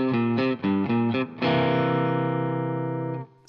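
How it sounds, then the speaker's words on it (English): Distorted electric guitar playing a blues riff in C: a few short choppy stabs followed by a long sustained ringing chord, close and clear with no talk. "All right, so the tune kicks off with this really cool riff."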